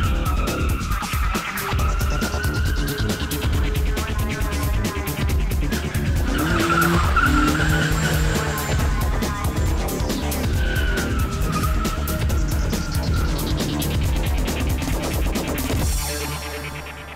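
A car drifts at a drift school, its tires squealing and skidding loudly and continuously for many seconds while the engine roars underneath, then cuts off abruptly near the end.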